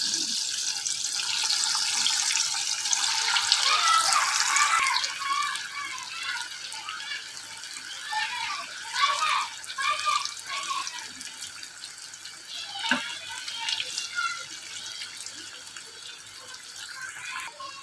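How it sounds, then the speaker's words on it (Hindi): Maggi cheese balls deep-fry in hot oil, giving off a continuous hissing sizzle that is strongest early on and then settles into a softer, bubbling crackle. "अभी हम इसे तेल में तलेंगे।"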